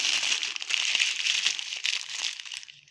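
A plastic packet of pearl barley is handled up close, giving continuous crinkly, rustling plastic sounds that fade out toward the end.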